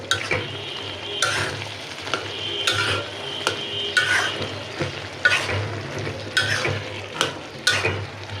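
Taro leaves cook with shrimp in a pan, a continuous close sizzle under repeated rhythmic stirring strokes and utensil scrapes, with no voices.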